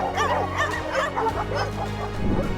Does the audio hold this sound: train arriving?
no